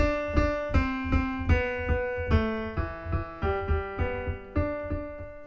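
Solo piano plays a passage, a steady run of struck notes with sustained harmonics ringing beneath, each key attack clear and close, with no voices.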